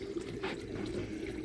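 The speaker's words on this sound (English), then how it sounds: "I'm running the skimmer just to take anything off the top of the water" A koi pond skimmer runs at the water surface, giving a soft, continuous watery rush and gurgle that is fairly faint and steady, with no voices.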